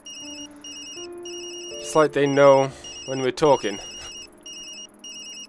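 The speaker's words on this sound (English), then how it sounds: "Sorry, Yumi. That's my phone." A phone ringing in the video game Tokyo Dark, a repeated electronic ringtone of short, even beeps that keeps going as a person talks over the middle of it.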